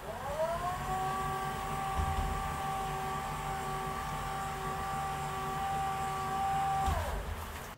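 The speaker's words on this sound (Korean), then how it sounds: "방문을 닫았을 시에 방문 밖에서 이 전동 데스크가 움직이는 소리는 거의 잘" Steady electric motor hum of a Xenics Arena-X motorized standing desk adjusting its height, a smooth continuous whine lasting about seven seconds before stopping with a soft clunk, heard alone.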